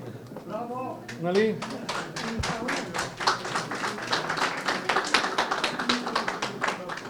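An audience claps in a rhythmic, steady run of sharp taps at a lively gathering, with someone speaking briefly over the opening before the applause carries on to the end.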